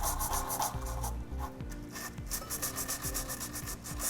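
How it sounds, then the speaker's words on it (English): Nylon tube brush scrubbing inside the frame holes of a 2015 Toyota Highlander while fitting a Curt trailer hitch, steady close rasping strokes back and forth with no talk. "And then we're gonna use a nylon tube brush that we've got."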